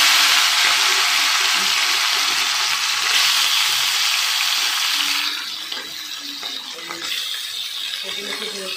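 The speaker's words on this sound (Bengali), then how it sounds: "এবার আমি মাছগুলো দিয়ে ভাজা করে দিই।" River fish rubbed with turmeric frying in hot oil in a wok, a loud close hissing sizzle that eases somewhat midway and continues steadily.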